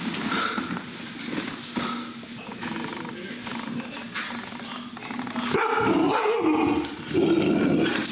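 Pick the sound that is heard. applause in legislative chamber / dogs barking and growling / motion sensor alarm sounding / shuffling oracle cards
dogs barking and growling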